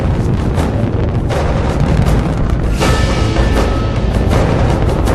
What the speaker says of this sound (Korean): 지난 7월 5일 북한은 고체 로켓인 대포동 로켓을 발사한다.